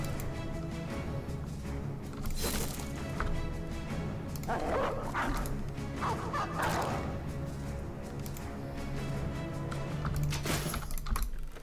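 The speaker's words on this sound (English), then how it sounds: "Where is that war dog going?" A war dog in a video game barks and yips in short bursts amid game sounds, with whimpering tones and scattered clicks across the mix, moderately loud.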